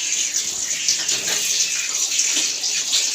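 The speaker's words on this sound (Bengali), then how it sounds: "পাবদা মাছগুলো ধুয়ে নিই।" Pabda fish being rinsed under a running tap in a kitchen, a steady close gush of water with splashy handling throughout and no talking.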